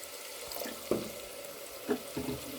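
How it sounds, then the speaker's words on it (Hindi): Water being poured into mutton korma masala frying in a pan: a few soft splashes and gurgles about a second apart over quiet sizzling background, fairly faint. "इसमें थोड़ा सा पानी ऐड करेंगे"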